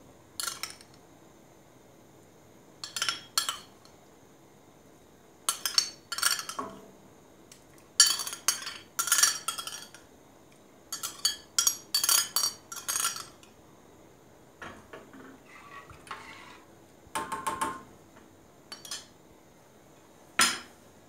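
A spoon clinks and scrapes against a pot as quinoa diet pudding is stirred, coming in irregular bursts of metallic clatter separated by short quiet gaps, close and fairly loud with no talking.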